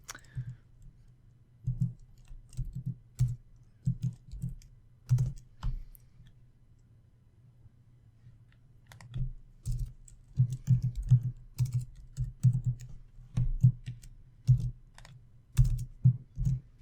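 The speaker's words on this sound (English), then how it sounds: "Typing, my arch enemy. We meet again." Keys clack on a computer keyboard in irregular bursts of rapid typing, close and crisp, with brief pauses between flurries.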